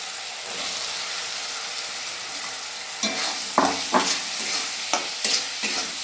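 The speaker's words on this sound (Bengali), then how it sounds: "ভালোভাবে এটা নেড়ে চেড়ে দেবো যাতে মশলাটা সবজির মধ্যে ঢোকে" Fried vegetables tossed with spices in a pan for a vegetable dal, steady sizzle throughout, then several sharp scraping stir strokes in the second half, close and fairly loud.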